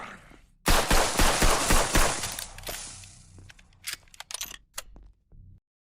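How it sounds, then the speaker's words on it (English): Video game gunfire bursts out in a rapid, loud volley of close shots. It thins into scattered single cracks and short clusters before fading to silence. "Can I turn down the gun volume just a little?"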